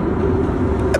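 Car driving on the road toward Croydon, heard from inside as a loud, steady low engine and road rumble that fills the whole stretch without a break.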